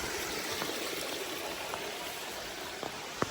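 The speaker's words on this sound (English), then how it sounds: "gotta love a nice little stream here" A small stream flows along the Appalachian Trail, a steady broadband rush and trickle of water heard alone at moderate distance, with a few faint clicks.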